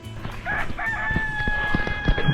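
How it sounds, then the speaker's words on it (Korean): Chickens clucking and crowing in a rural Kyrgyz mountain village, with a rooster-like call rising clearly above steady outdoor background noise close by. "닭이다 동물농장이다 닭이랑 소랑 같이 있으니까 너무 진짜 시골 풍경 같다"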